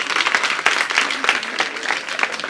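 Steady applause from a crowd of schoolgirls at a village school event in Patoda, Jhajjar, a dense continuous clapping that fills the whole stretch at close range with no voices over it.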